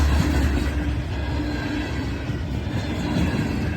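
CSX and Conrail freight trains pass on parallel rail lines, one westbound and one eastbound, giving a steady, loud low rumble with rolling wheel noise that holds throughout.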